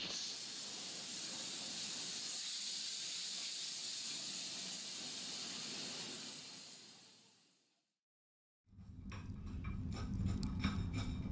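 A loud, steady hiss of escaping steam that runs continuously for several seconds, then cuts off abruptly; after a brief silence, rumbling engine noise with clanking begins.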